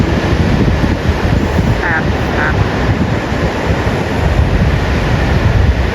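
Big waves breaking on the Spanish coast, a loud continuous roar of surf with heavy wind buffeting the microphone, steady throughout with no break.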